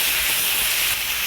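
Pieces of pork for ojingeo-samgyeop bulgogi sizzle loudly in a hot pan while being stirred with chopsticks, making a continuous, close, bright hiss with no talking over it.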